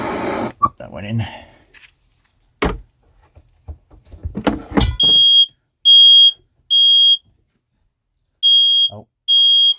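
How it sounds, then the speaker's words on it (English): After some talk and clatter, a smoke alarm sounds loud, piercing beeps in a steady series of long tones with short gaps, on a boat during battery work. "And you can also test your smoke alarm."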